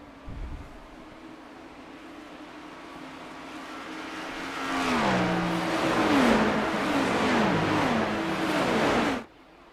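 Porsche race car in Le Mans livery in a sim racing sprint event, its engine rising steadily then screaming through a run of quick upshifts with rhythmic rev drops before cutting off abruptly.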